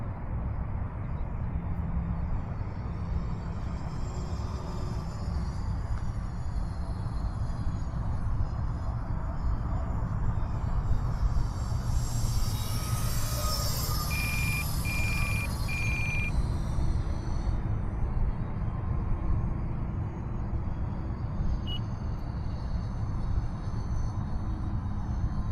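An E-flite F-14 Tomcat twin 40mm electric ducted-fan RC jet flies overhead on its maiden flight, giving a steady, distant whooshing whine that swells briefly as it passes closer, with no talk over it.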